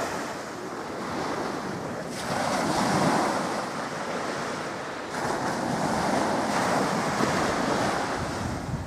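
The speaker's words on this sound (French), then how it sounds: "Il y a des vagues, et la marée haute." High-tide waves on the Saint Lawrence at Rimouski wash steadily along the bay shore beside a wooden boardwalk, a continuous roar of surf mixed with strong wind buffeting the microphone, no voices.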